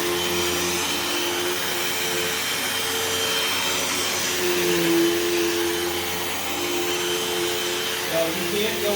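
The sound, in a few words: Hoover Elite Rewind Plus vacuum cleaner pushed on carpet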